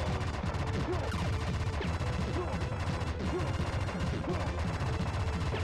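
Machine gun fire in the co-op shooting game Wild Guns, a dense, continuous rattle of shots layered with game effects and music, loud and unbroken for the whole stretch.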